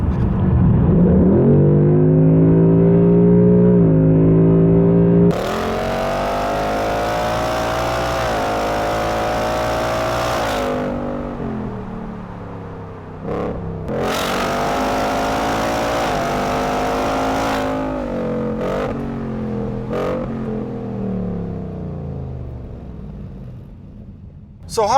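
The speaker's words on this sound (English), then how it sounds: "Just listen to the way this engine sounds all the way up to the red line." Sports car engine revving hard up toward the red line, rising harmonic pitch sweeping upward, dropping, then climbing again in repeated loud pulls with brief lifts between; Ford Mustang GT or BMW M2 under acceleration, close and dominant throughout.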